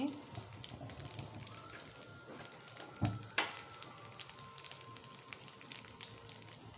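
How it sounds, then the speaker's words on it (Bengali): Chopped onions fry in mustard oil with a steady, close sizzle and crackle, dotted with small pops and a couple of sharper clinks throughout. "পেঁয়াজটা এখন আমি ব্রাউন কালার করে ভেজে নেব"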